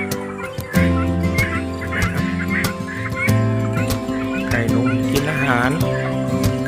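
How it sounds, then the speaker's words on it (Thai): A flock of young turkeys gobbling and calling over one another at feeding time, close by, with continuous overlapping clucks and honking calls and occasional clatter. "มาดู ให้อาหารไก่นะครับ ไก่งวง ไก่งวงกลุ่มนี้เป็นกลุ่ม ไก่หนุ่มนะครับผม"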